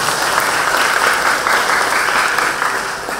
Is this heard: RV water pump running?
no